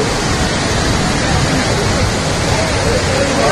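Heavy floodwater rushes after torrential rain along the Vaishno Devi pilgrimage route, a dense, unbroken roar that fills the whole clip without pause.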